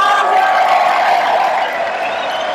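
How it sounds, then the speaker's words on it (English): A crowd cheers at a Mikey Musumeci grappling match, a loud, dense roar of voices that holds steady and then eases slightly toward the end. "The crowd goes wild."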